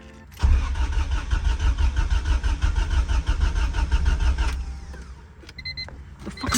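A Honda EK hatchback with a B20 engine cranks briefly and catches, then revs and runs roughly for several seconds before the note drops and picks back up, close and loud.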